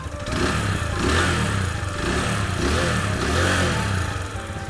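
A 2019 GPX Raptor 180 motorcycle engine revs up and down several times close by, the throttle swelling and easing in repeated loud surges.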